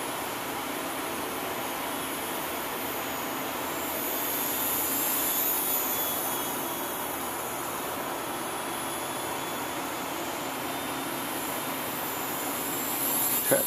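A UMX AS3Xtra electric RC plane on its maiden flight gives a steady, airy whir that swells slightly midway and carries on against broad outdoor wind noise, with no voices.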